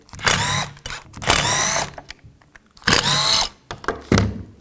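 A 10 mm socket on a power driver spins nuts off the electric air pump bracket of a 1998-2010 Volkswagen Beetle, in four close, loud whirring bursts separated by short pauses.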